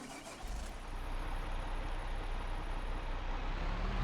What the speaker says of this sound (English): so let's jump into the tractor